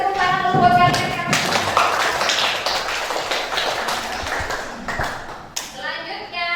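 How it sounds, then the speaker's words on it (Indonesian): Schoolchildren in a classroom clap their hands together, a burst of dense rapid clapping starting after a spoken line and tapering into scattered claps, with children's voices mixed in. "kasih tepuk tangan dulu buat kalian"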